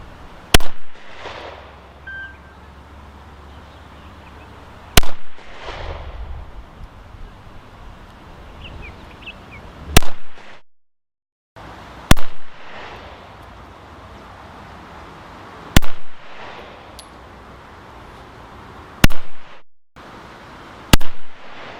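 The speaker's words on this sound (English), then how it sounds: "I've really enjoyed shooting the CZ P-10." A CZ P-10 pistol fired on a range: single sharp shots spaced several seconds apart, seven in all, loud and close, with quiet background between them.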